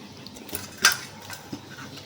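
A spoon stirs drained, squeezed ash gourd into cake batter in a bowl, with soft scraping and one sharp metallic clink of utensil against the bowl, close and quiet.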